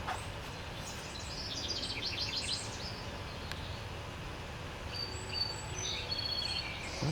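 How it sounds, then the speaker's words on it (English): Birds of several species call and sing outdoors along a garden and nature stretch, faint high chirps and trills in two clusters over a constant soft background hiss. "Lots of birds along this little stretch."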